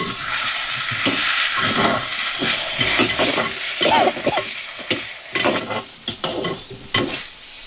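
A spoon stirs onions, garlic and potato pieces frying in hot oil in a pan, close scraping strokes coming in irregular bursts over a continuous sizzle, with no one talking.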